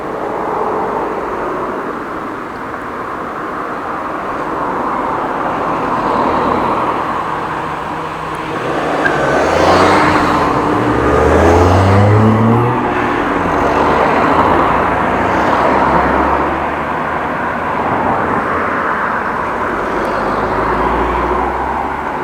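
Road traffic at a busy crossing of Eikenlaan and Park Selwerd in Groningen, heard while waiting on a bicycle: a steady roadway rumble that swells as cars pass close by, then eases off.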